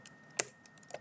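A tag name is typed on a computer keyboard in TIA Portal PLC software: a handful of quiet, close keystrokes within about a second, one louder than the rest.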